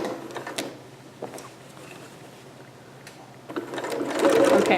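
Home sewing machine stitching a cap sleeve on a Vogue 8280 garment, running in short bursts with quiet pauses, then a louder sustained whirring stretch toward the end, close by.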